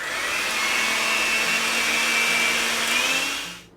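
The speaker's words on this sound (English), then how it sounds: "And then we're just gonna mix this up until it's all whipped up and fluffy." Electric hand mixer whirring steadily as it whips heavy cream into a no-bake cheesecake dip, a continuous loud motor whine with a slight pitch shift, running alone for several seconds before cutting off.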